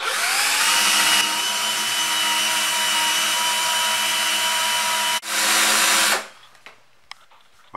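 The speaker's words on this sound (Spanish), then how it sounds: "Vamos a subir la velocidad del taladro." A power drill spins sandpaper against a cork fishing lure, a loud steady whine and grinding that runs continuously for about six seconds, briefly dipping once, then cuts off, leaving quiet handling noises.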